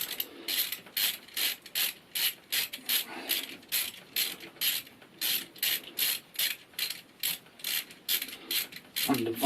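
A ratchet clicks rapidly in steady back-and-forth strokes while loosening valve cover bolts on a Suzuki SV650 engine, close and crisp, about two dozen even pulses with no talking.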